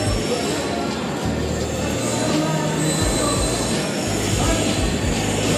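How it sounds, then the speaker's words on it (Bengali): A departing train at Delhi railway station squeals loudly on its wheels, with sustained metallic screeching and a rumbling undertone throughout. "এই যে পেছন দিকে ট্রেনটা ছাড়ছে, করে আওয়াজ পাওয়া যাচ্ছে"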